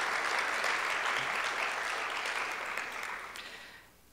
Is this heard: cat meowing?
no